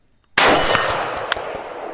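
A rifle shot strikes a steel target at 100 yards with one loud metallic clang that rings on and decays slowly, with a fainter tap partway through.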